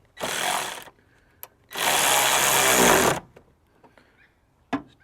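A power tool tightens 10mm bolts on a Nissan Patrol battery tray in two bursts, a short whir and then a longer sustained one, with small clicks and knocks between them.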